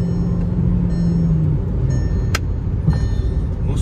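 A Volkswagen Virtus 1.5 GT and a Honda Civic accelerating in a roadside drag race give a steady engine and road rumble, with rising whine tones, a sharp brief click and faint background noise.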